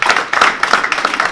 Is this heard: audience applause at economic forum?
yes